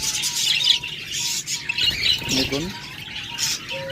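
Caged cockatiels and budgerigars squawk and chirp in short bursts close by, while someone speaks over the birds.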